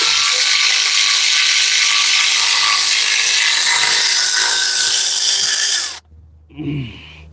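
A hand ratchet clicks rapidly and steadily for several seconds while loosening the power steering pump on a 1968 Thunderbird during engine removal, loud and close, then stops abruptly, followed by a brief metallic clunk.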